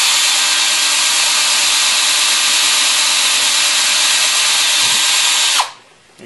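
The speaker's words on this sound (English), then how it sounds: "you can go ahead and just follow that right straight through with the drill bit." Drill bit driven through a rivet to drill it out, a loud, close, steady whine lasting several seconds before it stops abruptly near the end.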